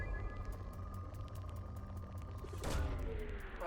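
A probe launching in Mass Effect 2 gives a steady mechanical hum with faint rhythmic ticking, then a louder whooshing surge near the end, all without any talking.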